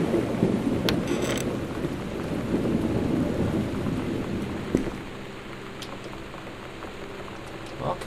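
Video game Gone Home thunderstorm ambience: a deep rolling rumble of thunder under steady rain for several seconds, easing into softer dripping rain, with a few faint clicks.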